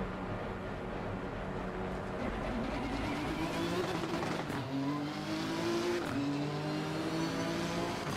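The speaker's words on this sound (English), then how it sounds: "Tell me this car doesn't sound amazing" A race car engine in Assetto Corsa Competizione during an online multiplayer qualifying session climbs through rising revs with clear upshifts, a steady, close and moderately loud engine note.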